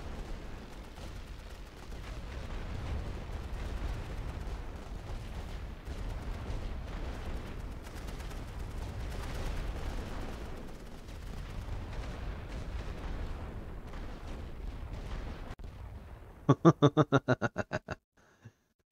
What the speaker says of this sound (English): Préparez un barrage total. More explosions.